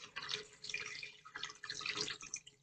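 Filtered water pours in a steady splashing stream into a pot ahead of pressure cooking a syrup, filling and gurgling in two close bursts with a short lull between.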